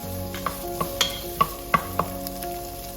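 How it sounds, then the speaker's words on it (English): Onions sautéing in a pan for minestrone soup give a steady low sizzle, broken by several sharp clinks and scrapes as a utensil stirs them, close and clear with no talking. "So you put onions in there. Let it kind of like get transparent a little bit."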